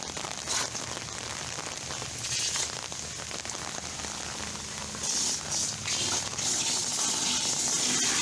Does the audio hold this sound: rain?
yes